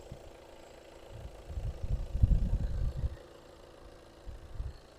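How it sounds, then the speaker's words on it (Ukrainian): A VW Tiguan 2.0 TDI diesel engine running close by with a low, steady rumble that swells for a few seconds, then settles back to a quieter idle. "Ось робота двигуна."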